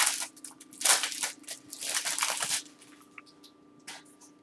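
Crinkling and crushing of packaging as something is opened, in short bursts of rustling that fade to quieter handling near the end.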